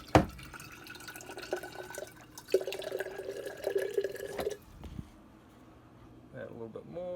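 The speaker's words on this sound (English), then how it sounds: "I'm gonna add some more water." Water pours into a jar of fermenting collards and kale in a short trickling burst between drips and handling clatter, with a person talking nearby.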